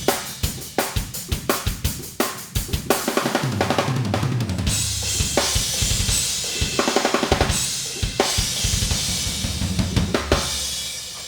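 EZdrummer drum kit plays back a steady groove, kick and snare punching through while the hi-hats and cymbals sound thin and tinny from a high-pass filter, loud and without any voices.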